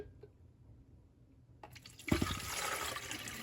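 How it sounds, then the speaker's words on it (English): Water poured into the reservoir of a Black & Decker 2-in-1 coffee maker: after a quiet start with a few small clunks, a steady splashing, trickling pour begins and continues up close to the end. "And I'm just gonna pour my water in."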